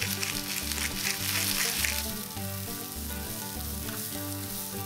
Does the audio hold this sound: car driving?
no